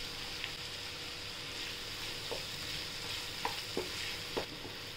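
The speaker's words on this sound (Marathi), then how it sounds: "त्याच्यानंतर आपण आता ह्याच्यात बटाटे टाकूया." Potatoes stirred into onions frying in a pan for kanda batata poha give a steady close sizzling hiss, broken by a few soft scrapes and clicks from the spoon.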